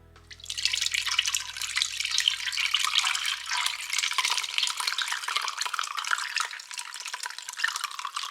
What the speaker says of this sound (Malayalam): ഇതിൽ ഒഴിച്ച് നമുക്ക് അരിച്ചെടുക്കാം